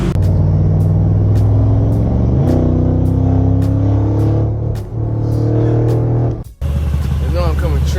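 An all-white Mansory-modified Mercedes G-Class runs close by with a loud, deep engine drone that rises in pitch as it revs, with a brief cutout near the end and voices over it.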